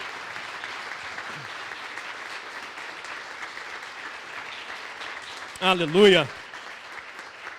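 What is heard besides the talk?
applause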